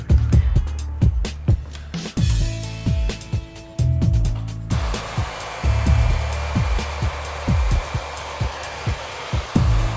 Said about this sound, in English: Besides having an AC motor and ionic design, we also need tension while we're drying the hair.